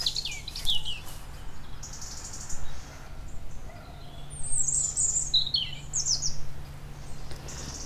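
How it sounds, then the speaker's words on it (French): A European robin sings outdoors in high, thin, twittering phrases that come in short bursts separated by pauses, fairly close, over a low steady background hum. "C'est pas pour rien qu'on l'appelle le rouge-gorge familier."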